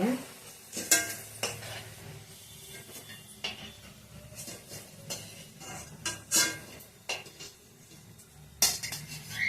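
Bitter gourd stir-fried until crisp in a pan, with repeated scraping and clattering of a spatula against metal over a low, constant sizzle. The strokes come in irregular bursts, close and fairly loud.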